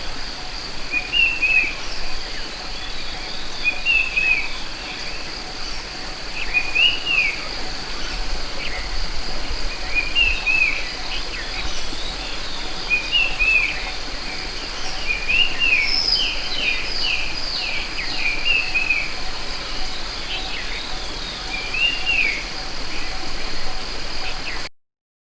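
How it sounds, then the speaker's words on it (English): A brown-capped babbler gives its 'pretty dear' call, a short whistled phrase repeated about every second and a half at moderate distance over a steady drone of crickets and insects. "What you heard is a Pretty Dear Call produced by Brown Cap"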